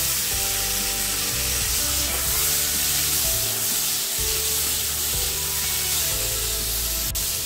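Cut potatoes go into a pan of fried onions, and a loud, steady sizzle of frying continues close up throughout without talk.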